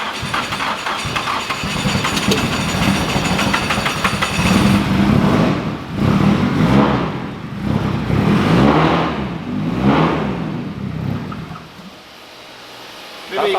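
An SR20DET engine in an AE86 drift car starts and runs loud and close, revving in repeated surges that rise and fall before cutting off near the end, with voices mixed in.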